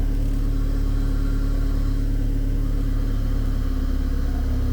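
Steady engine drone from a Chevrolet or Fiat car with a worn, hard clutch, running continuously and close as the clutch pedal is pressed, with a low mechanical hum and faint whine and no voices.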